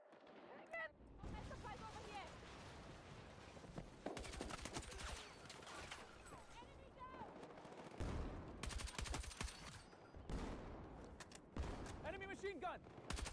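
Rapid bursts of automatic fire from an enemy machine gun in the shooter game Battlefield 6, loud and dense among other battle noise and blasts, with someone talking over parts of it.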